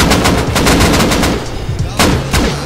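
Gunfire in the video game Rust, a rapid burst of loud close shots followed by a pause and a few more single shots.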